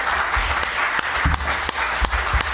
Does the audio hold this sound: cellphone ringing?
no